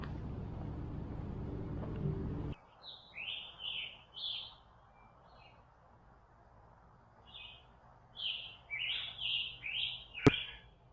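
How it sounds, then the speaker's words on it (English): Small birds chirp in a quiet forest at Harriman State Park, New York, short clear tweets in scattered bursts and a quick cluster near the end, faint and distant against near silence after a brief rustle. "The only sounds are of the birds chirping."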